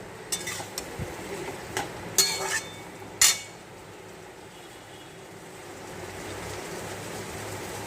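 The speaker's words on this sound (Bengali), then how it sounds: "এই দেখো আলু আর কাঁচা লঙ্কা দিয়ে দিলাম, দিয়ে ভালো করে কষিয়ে নিচ্ছি।" Metal spoon clinking and scraping against a pan while chicken, potatoes and green chillies are stirred and sautéed, a few sharp irregular taps over a low background hum, then fading into quiet rumble.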